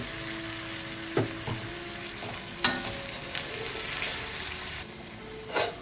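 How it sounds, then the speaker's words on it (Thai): Green curry paste and coconut milk stir-fried in a pan for a Thai pork green curry, with a steady sizzle and occasional scraping clinks of the utensil against the pan. No one speaks. "แต่ทีนี้ก็จะเติม กะทิลงไปผัดด้วยนะครับ"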